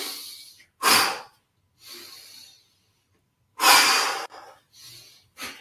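Deep breaths drawn in and let out during a guided shoulder-raising relaxation exercise: several loud, airy inhales and exhales separated by quiet pauses, close to the mic, with no talking.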